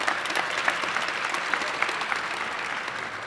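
Steady applause and scattered cheering from a convention audience cheering for Illinois at a welcome reception in the Andrew W. Mellon Auditorium, dense and continuous throughout with sharp claps and whoops standing out.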